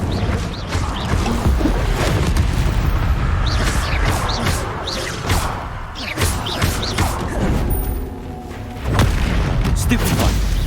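An Incendio fire spell blast from the video game Hogwarts Legacy, a loud whooshing, crackling burst among layered game effects and booming impacts, with a voice talking over the action.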